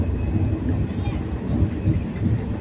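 A low steady rumble of a passenger express train at a station, with muffled engine drone and faint crowd murmur throughout.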